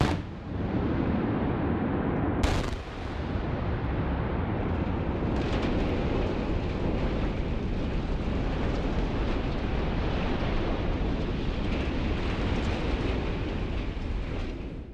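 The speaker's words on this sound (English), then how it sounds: "the E-600-ton gas tank was demolished in a carefully planned explosive operation" A 93-meter steel gas tank is brought down by explosive demolition: a sharp blast, then a second crack a few seconds later, and a long, heavy roar of collapse and rumbling debris that goes on, loud and distant, with no voices.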